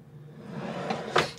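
A cutlery drawer in a Rollerteam Zefiro caravan slides and shuts with a single close knock near the end, preceded by soft rustling handling sounds, close by and fairly quiet.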